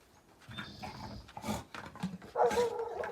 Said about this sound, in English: our dog is really having a meal here